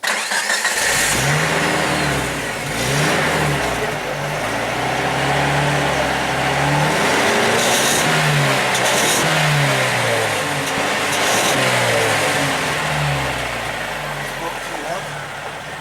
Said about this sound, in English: Let me start the motor and you can listen to it and stuff.